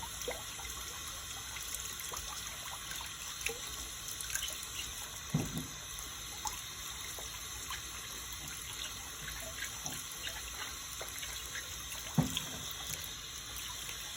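Cucumbers for pickles being washed outdoors under running water, a steady soft stream with faint drips and small splashes throughout, fairly quiet and with no talking.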